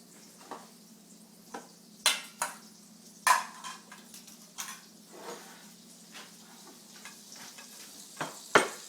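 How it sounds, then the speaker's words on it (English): Butter heating in a frying pan, a quiet steady sizzle broken by scattered sharp ticks and pops, close and soft, with no talk. "I'm going to add a little bit of butter to the pan. I'm going to let that heat up."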